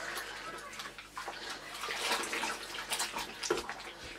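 A vintage Hoover cloth vacuum bag is gently agitated in a bowl of water, making soft, irregular sloshing and splashing close by, with quiet gurgles and a few sharper drips.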